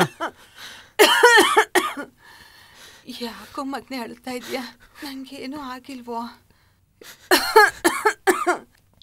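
Someone coughs in short bursts between strained, tearful speech from another voice, the coughs rough and close.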